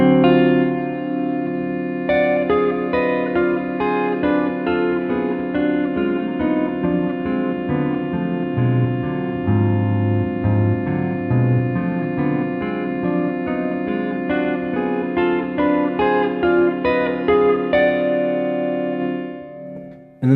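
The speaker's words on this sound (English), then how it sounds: "I'm going to be using the D half whole diminished scale for both of these examples" Electric guitar with chorus and echo effects playing a harmonized line on the D half whole diminished scale, a steady stream of paired notes moving in even rhythm before a held final chord fades.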